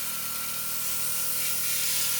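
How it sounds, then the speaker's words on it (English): Steady broadband hiss of a Gaahleri Serenair starter-set airbrush at low air pressure spraying paint onto the backs of sprockets, continuous and close with no talk over it. "Just going to spray the backs of these sprockets."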